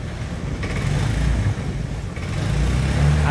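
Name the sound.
trying to start Honda Vario 125 scooter engine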